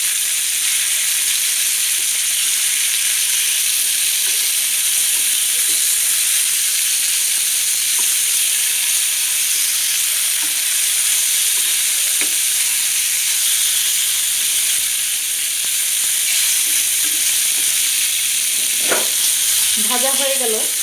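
Hilsa fish frying in mustard oil in a home kitchen pan, a loud continuous sizzle and hiss close up, with brief scraping and stirring near the end and no talk.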